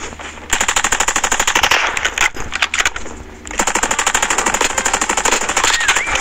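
Rapid automatic gunfire from Call of Duty Mobile hammers in long, tightly spaced bursts, loud and close, with a brief break in the middle before the firing resumes.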